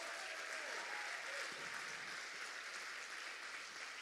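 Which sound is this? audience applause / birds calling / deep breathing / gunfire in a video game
audience applause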